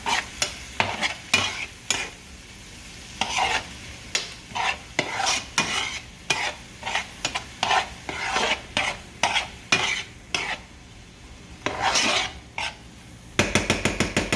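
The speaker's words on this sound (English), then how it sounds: "And we're gonna stir it up." Seafood egg roll filling being stirred in a pot: rapid, rhythmic scraping strokes of a spoon against the pot, loud and close, over a light simmering sizzle, ending in a quick burst of fast stirs.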